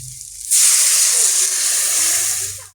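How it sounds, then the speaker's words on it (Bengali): Water poured into a hot pan while cooking taro leaf curry gives a sudden loud, steady sizzling hiss that starts abruptly and holds before easing off, with no talk over it. "এবার আমি জল দেবো"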